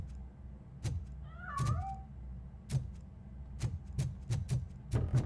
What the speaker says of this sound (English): Vai, cerchiamo sto cazzo di gatto.